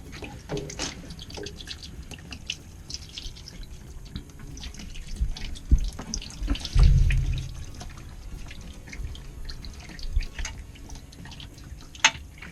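Transmission fluid pours and drips from a TH400 automatic transmission pan into a drip pan beneath a car, a low splashing gush swelling briefly mid-clip amid scattered drips and small clanks, nearby and fairly faint.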